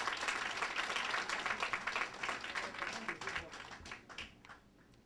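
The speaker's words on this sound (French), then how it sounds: "Donc je voudrais qu'on vous applaudisse très fort" A crowd claps loudly and continuously, the applause thinning and fading toward the end.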